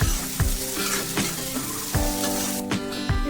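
Ginger and garlic paste sizzles and fries in a pan, a steady close crackle broken by repeated scraping stirs of a utensil against the metal.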